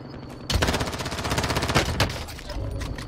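Rapid automatic gunfire in Call of Duty Warzone, a loud sustained burst of shots in quick rhythm after a brief quieter moment.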